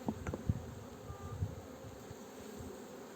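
A honeybee swarm buzzes at a hive in hot Antalya weather, a soft, steady hum under faint outdoor noise with a few closer brief buzzes and knocks.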